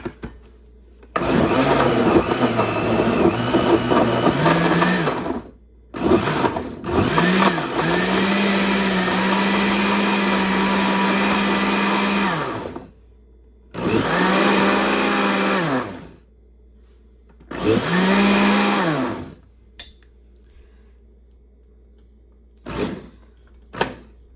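A kitchen blender whirs a strawberry ice cream drink in several loud bursts, starting with a whine, holding a steady high roar, and stopping in between, with short quiet gaps between pulses.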